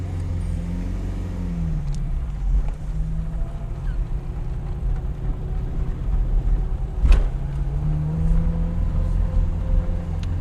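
A 1987 Yugo GV driving in first gear, a small engine droning and rising in pitch from inside the car, with road rumble and a sharp knock midway.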